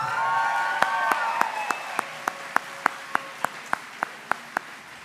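Sustained applause from the audience at a high school graduation ceremony, a dense steady wash of clapping throughout, with a faint tonal whine and a regular series of sharp clicks running over it.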